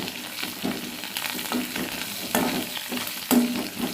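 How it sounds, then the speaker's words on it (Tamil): Coriander leaves being sautéed with gooseberry chutney ingredients, the spatula scraping repeatedly through the pan amid a continuous loud frying hiss, no one speaking. "இப்போ வந்து இதில் வந்து கொத்தமல்லி தழை சும்மா கொஞ்சமாக அதே இதோட சேர்த்து வதக்கி விட்டுருவோம்"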